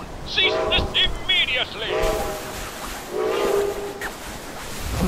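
A train whistle from the video game Fallout 76 sounds in sustained blasts over a hissing background, partly overlapped by someone shouting.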